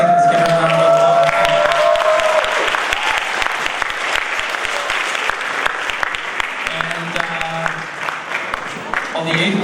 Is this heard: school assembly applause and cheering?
yes